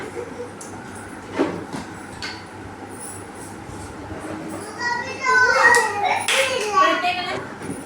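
Young children in an anganwadi classroom clap briefly amid their own chatter and squeals, scattered hand claps under excited kid voices.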